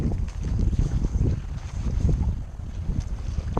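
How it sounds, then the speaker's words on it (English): Strong gusty wind buffets the microphone on open water during a kayak bass fishing trip, a loud low rumble that surges and dips in uneven waves with no talking. "It was definitely not supposed to be this windy."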